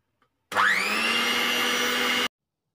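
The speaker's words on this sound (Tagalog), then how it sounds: "Maingay yung mixer natin." An electric hand mixer whirs at a steady high pitch for under two seconds, starting abruptly and cutting off cleanly, mixing bread dough ingredients with fresh milk.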